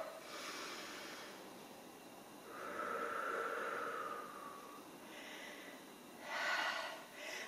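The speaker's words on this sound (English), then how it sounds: "standing tall and take some deep breaths" Deep breathing after a Kundalini yoga exercise: a few loud, breathy hissing inhales and exhales, one long drawn-out breath in the middle and a sharp snort-like burst near the end, close and without talk.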